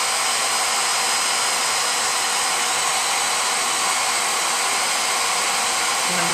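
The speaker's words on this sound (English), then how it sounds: "I'm just gonna hit that with a hairdryer." A hair dryer blows on a gel base coat, a loud steady whoosh that runs without pause the whole time, no talk over it.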